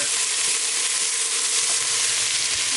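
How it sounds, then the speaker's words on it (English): Ginger and garlic sizzle in a pot for carrot and coconut soup, a loud continuous hissing fry close up with faint stirring movement underneath and no talking. "toss in our healthy, delicious ginger straight in, and in with our garlic. Give that a stir."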